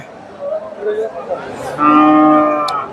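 A Friesian dairy cow at a busy cattle market in Dakumara, Bogura lets out a loud, close, drawn-out moo lasting about a second, with faint crowd noise and voices underneath.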